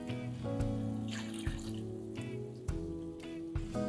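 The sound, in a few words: water being poured into mixer jar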